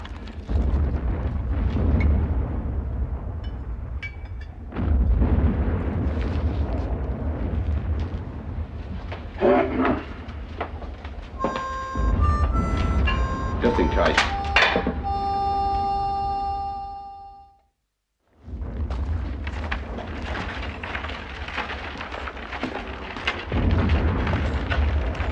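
Far-off artillery fire in a wartime setting, a string of deep booms and rumbling bursts rolling in at irregular intervals over a steady low background, with a brief silent gap near the end.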